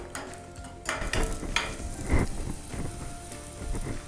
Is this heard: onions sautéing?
yes